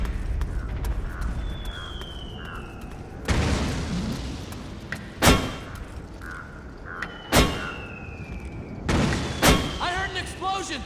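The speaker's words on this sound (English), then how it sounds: "I heard an explosion!" Several heavy explosions go off in Metal Gear Solid 4: Guns of the Patriots, loud separate booms spaced a few seconds apart over low background rumble and game sounds, with a brief whistling sound between some of them.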